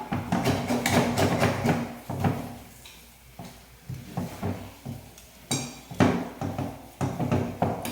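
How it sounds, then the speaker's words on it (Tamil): A metal ladle scrapes and clanks against the bottom of a cooking pan with oil in a home kitchen, a run of sharp, close, irregular scrapes and knocks that briefly ease off mid-way before picking up again. "இந்த அடியில் எல்லாம் நம்ம நல்லா கரண்டியில் சுரண்டி எடுத்துக்கலாம்"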